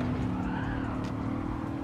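Racing video game car braking very late during an inverted-grid Ambassadors Trophy race, a steady engine drone with a faint tire scrub running continuously and fairly loud throughout, no talk.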